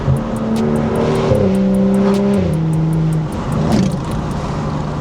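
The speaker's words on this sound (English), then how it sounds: "this is going to be our BimmerWorld MagnaFlow race system for our F3X race car" BMW F3X race car with a BimmerWorld MagnaFlow race exhaust revs loudly and close, engine pitch climbing and falling through steady throttle blips, with popping and crackling bursts layered over the drone.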